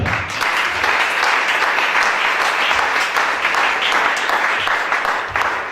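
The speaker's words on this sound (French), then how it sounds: "Acclamez Shaddai" A church congregation at a teaching service applauds loudly and steadily, a dense wash of many hands clapping close by for several seconds without a break.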